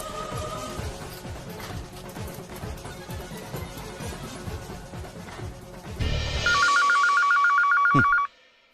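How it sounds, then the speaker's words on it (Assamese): A telephone rings loudly near the end in a rapid, trilling electronic bell burst lasting about two seconds, after a stretch of busy background sound and music. "ফোনটো ৰিং হৈ আছে কাৰো খবৰে নাই"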